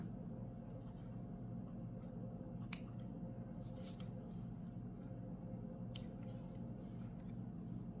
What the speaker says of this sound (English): now I'm going to just trim it down a little bit